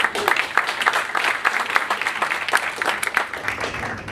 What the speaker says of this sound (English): Give Ryan a big hand of applause here too